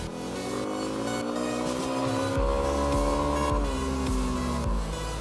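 An engine revs hard while the vehicle is ridden, rising and falling in pitch through several gear-like surges, loud and close with a continuous roar and no speech.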